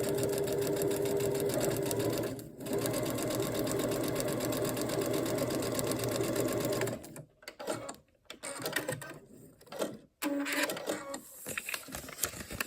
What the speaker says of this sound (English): I'm just using my eyes to make sure that I'm sewing right along that line.